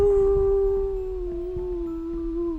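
A long, eerie wailing howl of a ghostly weeping woman, sustained and slowly wavering in pitch, sounding close and loud with no talk over it.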